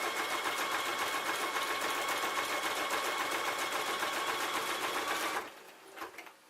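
Sewing machine stitching a buttonhole on jeans, a fast steady close whirring chatter of needle strokes that runs for about five seconds and then stops abruptly, leaving faint handling noises.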